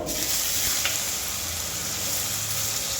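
Steady, close sizzling of rice frying in a pot with a bay leaf, cardamom, cinnamon and chopped ginger, a continuous bright hiss of hot oil with faint stirring, no voices.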